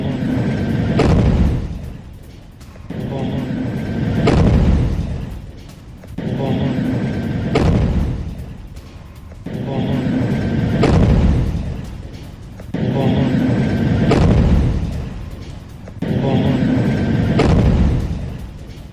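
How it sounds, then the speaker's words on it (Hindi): Heavy explosions in Gaza, including a blast from an attack on a bulldozer, boom repeatedly at regular intervals, each a loud deep blast that rumbles and fades before the next. "बुलडोजर पर हमले से भीषण धमाका हुआ है।"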